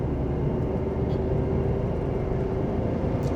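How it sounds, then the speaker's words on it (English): A Nissan Magnite CNG with a manual gearbox accelerates, its engine and road noise forming a steady, loud, even drone heard from inside the car with no talking. "Let's just give it some gas."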